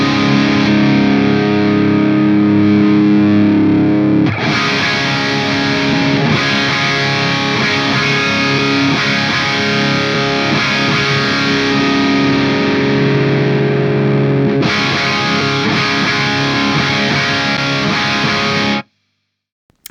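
Heavily distorted electric guitar played through a Synergy Diezel VH4 amp module, loud and continuous with sustained chords and riffing for about eighteen seconds, then cutting off abruptly near the end.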